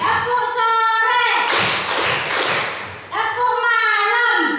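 A class of children clapping in unison for a group clap routine, a loud, dense stretch of hand claps lasting over a second, bracketed by voices chanting together.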